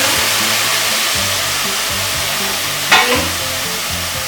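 Broth mixed with wine is poured into rice sizzling in a pan for arroz imperial: a constant close frying hiss, then a short splashing burst as the liquid hits.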